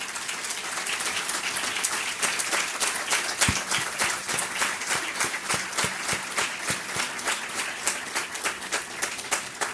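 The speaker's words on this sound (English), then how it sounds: "let's give her a round of applause" Audience applause at a school Red Ribbon rally honoring a student and her family, dense sustained clapping from a large crowd with a rhythmic pulse throughout.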